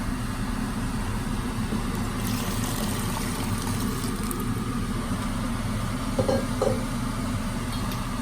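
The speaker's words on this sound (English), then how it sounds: "I'm adding 2 cups of the water." Water is poured into a besan curry mixture, a steady trickling flow with a low background hum throughout and a couple of small clinks near the end.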